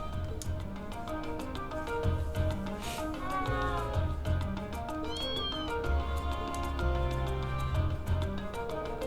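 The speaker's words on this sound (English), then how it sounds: "Oh, that kitten matches Nono's description perfectly" A kitten meows several times in the video game Trails of Cold Steel, short rising calls heard over steady background game music.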